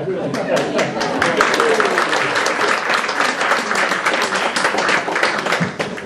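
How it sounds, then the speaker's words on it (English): Applause from the audience at a young bell ringers' seminar: dense, steady clapping that fills the whole stretch at a fairly loud level, with voices mixed in underneath. "that was a nice applause"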